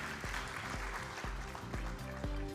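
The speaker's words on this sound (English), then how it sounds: "Round of applause to Valid Network." Audience applause at an AI startup pitch competition during a Malta summit in 2019, a steady clapping wash carried over a rhythmic music beat with regular low thumps.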